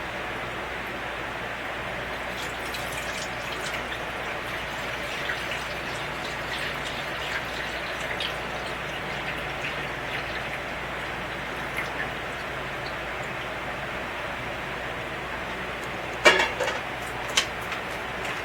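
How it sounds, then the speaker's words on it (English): Gelatin mixture pours into a rectangular glass pan in a soft, even liquid trickle, faint and continuous, with a couple of small clinks near the end. "And we're going to pour our gelatin mixture into the pan very carefully."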